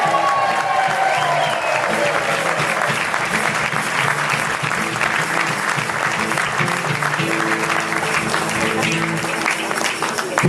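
Guests at a cruise ship's New Year cocktail reception clapping and cheering, a sustained, energetic round of applause with whoops and crowd voices mixed in, steady and loud throughout.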